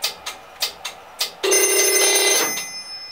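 An old telephone on a Strowger PABX exchange gives a loud electric bell ring: a few short sharp strikes, then one sustained ringing burst that fades away.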